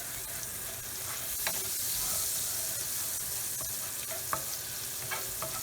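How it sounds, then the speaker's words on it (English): Crushed garlic sautés in a hot pan with a soft, steady sizzle and a few faint clicks from stirring. "I got some garlic in here, crushed garlic. You just saute real quick."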